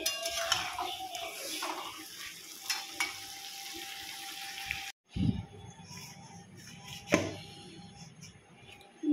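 Potato curry sautéing in a pan with a ground nut, poppy seed and spice paste, a close steady sizzle broken by clattering spoon scrapes against the pan, one sharp cut midway, no speech.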